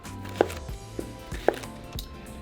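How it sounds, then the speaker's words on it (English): A knife chops calabacitas (zucchini) into small cubes on a board, with a few sharp, evenly spaced taps at close range against a quiet room. "And then cut them into small little cubes."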